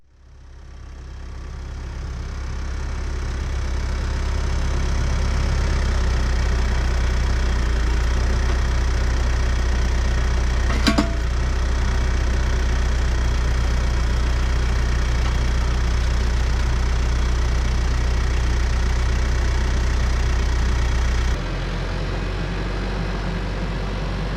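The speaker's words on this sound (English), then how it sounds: "I have no doubt the tractor has plenty of power to lift the post up out of the ground." A Massey Ferguson-style 574 tractor engine runs steadily at a loud, constant drone while a hydraulic attachment pulls a post from the ground, with one brief sharp clank partway through and a small drop in level near the end.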